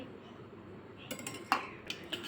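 A spoon stirring sugar and oil together in a bowl for nylon khaman, a few light clinks against the sides over a faint hum, close and quiet.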